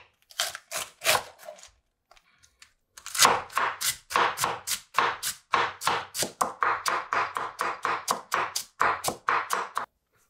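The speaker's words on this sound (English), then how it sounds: "We'll be chopping up our cabbage thinly because we want it to cook quickly and evenly." A knife chops cabbage thinly, rapidly and steadily on a cutting board, crisp repeated strikes after a short pause, close and clear with no voices.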